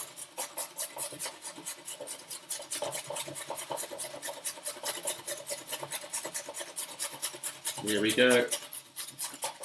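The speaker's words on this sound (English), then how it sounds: "a good way to quickly get through this carrot is to grate it" A carrot being grated by hand on a kitchen grater for a veggie bolognese, giving a steady rapid rasping of repeated close strokes throughout, with a brief voice near the end.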